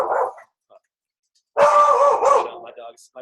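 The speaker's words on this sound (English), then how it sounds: "my dogs are a little crazy because someone was at the door" Dogs bark excitedly at someone at the door of a home, with a short burst at the start, a pause, then a louder, closer run of barks and yips.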